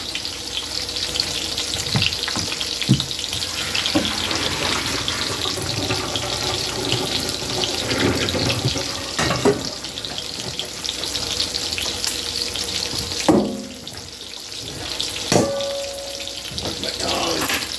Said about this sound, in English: We'll go rinse this.